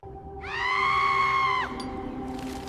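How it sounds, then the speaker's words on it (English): A drawn-out, high, strained scream from a monstrous entity in a horror audio drama, rising sharply and holding for about a second before cutting off, over a low droning bed. "The entity screamed"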